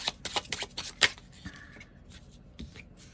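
Tarot cards drawn and handled one after another during a love reading, a series of close, crisp slides and flicks of card stock, with a couple of sharper snaps amid quiet shuffling and no talking.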